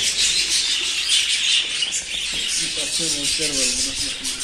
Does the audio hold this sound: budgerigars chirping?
yes